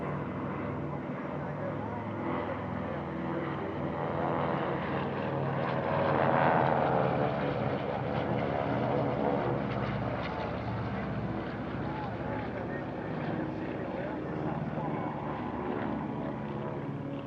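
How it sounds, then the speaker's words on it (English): Piston-engined Beech 18 aircraft fly in formation at an airshow, their propeller drone a distant steady rumble that swells slightly midway, under wind noise and nearby talk. "Watch the two Beech 18s on either side of the formation because they are about to swap positions with each other"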